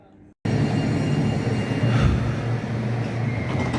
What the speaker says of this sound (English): Guess what? That's my tram.